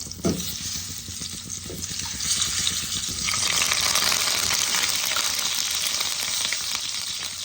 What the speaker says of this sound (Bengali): ডিমগুলোকে আমি হালকা করে ভেজে নেব